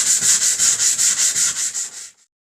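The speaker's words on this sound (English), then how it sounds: "The sanding is ready to be done." Hand sanding on a wooden hutch, a loud, close, rhythmic scratchy rubbing in about ten even back-and-forth strokes that then stop, leaving silence.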